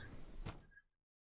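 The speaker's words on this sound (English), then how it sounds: "Okay, now I get the door." A door in the Fallout 4 video game opens at the Institute with a single muffled mechanical thud and a sliding whoosh, fading into silence within a second.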